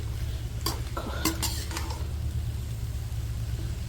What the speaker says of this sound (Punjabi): ਹੁਣ ਆਪਾਂ ਨੂੰ ਮਿਕਸ ਕਰ ਲਈਏ